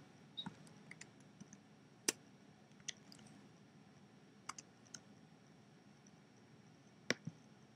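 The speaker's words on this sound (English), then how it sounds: "You're going to want to type in the model number of the" Sparse keystrokes tapped on a MacBook keyboard while entering a Canon printer model number, a handful of quiet, separate clicks with irregular pauses in a quiet room.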